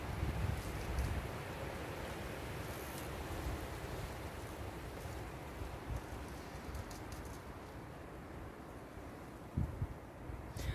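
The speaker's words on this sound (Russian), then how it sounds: "Жуткий ветер." Strong wind blows outdoors around a young tree in a steady, loud, broadband roar with gusty surges and no voices.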